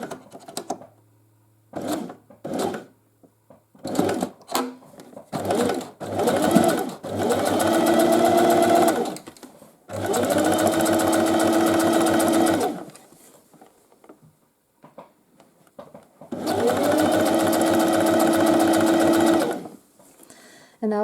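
A sewing machine runs straight seams on a knit jacket, several short clattering bursts at first and then three long, steady runs of rapid stitching at close range, separated by pauses.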